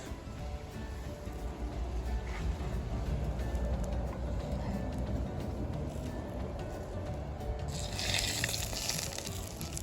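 Oil heating in a pan on a home stove, a steady, dense sizzle and hiss that holds evenly throughout, swelling slightly brighter near the end, with no talking.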